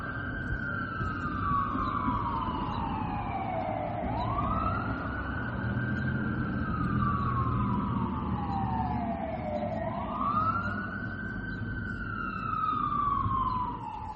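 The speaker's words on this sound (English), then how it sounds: "Sirens." Emergency vehicle siren wailing outside in the early morning, a loud rising and falling sweep that repeats about every six seconds over steady traffic rumble, with no talking.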